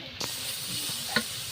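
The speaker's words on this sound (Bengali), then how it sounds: "এখন একটু ভালো করে কষিয়ে নিবে" Ginger, garlic and cumin paste with turmeric, chili powder and salt being sautéed in a pan for beef or mutton curry, a steady hissing sizzle with two brief scrape bursts from the stirring spoon.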